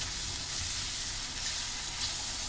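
Masala with Kitchen King spice roasting in a pan for soya chaap curry, a steady soft sizzle and hiss throughout, moderately quiet with no talking.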